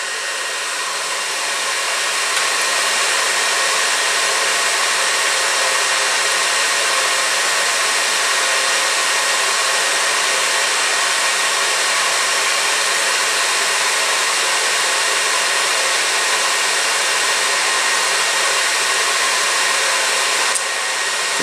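A fiber laser marking machine with a rotary axis runs as one steady, loud, broadband whir that holds unchanged for about twenty seconds, with no talk over it.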